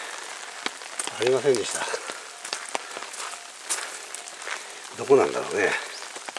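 Steady rain falls on cherry blossoms along a path up the slope toward an old burial mound, a continuous broadband hiss that sits under two people talking briefly.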